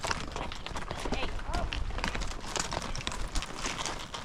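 Horses on an Old West-style horse drive move at a quickening pace, their hooves making a steady, fairly close clip-clop under a broad rumbling wash of noise, with a voice talking over it.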